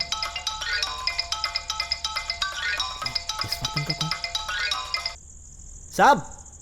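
A phone ringtone jingles loudly in a repeating melodic pattern for several seconds, then cuts off before a brief spoken line.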